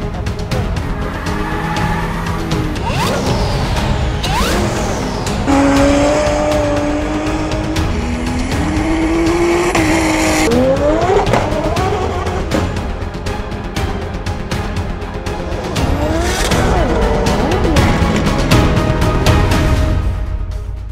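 Drift cars at the French Drift Championship round at the Val de Vienne circuit, engines revving loud and continuous with rising and falling pitch sweeps, tire squeal mixed in, no talk.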